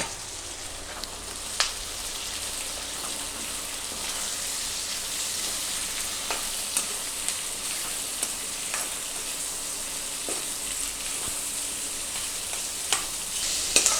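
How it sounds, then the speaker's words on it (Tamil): Onions sauté in a pan with salt for a sweet onion sambal, giving a continuous bright sizzle and crackle with occasional stirring scrapes and pops, close and alone. "வெங்காயம் நல்லா 10 நிமிஷம் வதங்கணும்."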